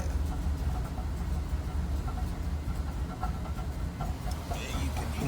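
A 2012 Chevy Tahoe 5.3 V8 idles rough with a misfire, giving a steady low rumble with uneven pulsing throughout, close and continuous.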